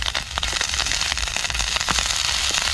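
A vrat snack sizzles and crackles steadily in desi ghee in a pan, a dense, continuous frying hiss with small popping bursts, close up and with no talking.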